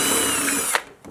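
A power drill whirs at close range for under a second, starting a hole in a Harley-Davidson tour pack, then spins down and stops with a brief click.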